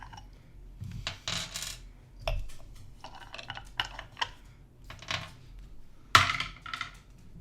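Dice rattling and clattering on a table during a Dungeons & Dragons session: a run of sharp, bright clicks and tumbling knocks close by, with one loud clack late on.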